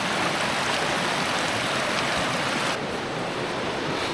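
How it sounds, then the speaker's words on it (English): A creek flows in a steady, loud rushing wash of water close by in a remote outdoor setting, with a faint windy edge and no talking. "Just gotta cross this creek."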